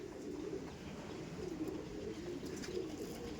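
Andhra pigeons coo in a low, steady murmur that runs throughout, a flock close by with no voices over it.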